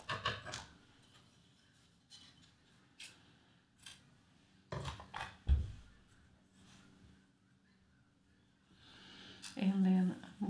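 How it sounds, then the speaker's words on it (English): Scissors snipping through lycra crochet yarn close up, a few short sharp cuts scattered between soft handling rustles, with a person talking at times. "I'm going to cut this yarn here."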